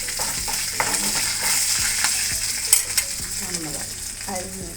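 Chili and curry leaves sautéing in oil in a pan make a bright continuous sizzle with spatula scrapes and crackling pops, heard up close and alone.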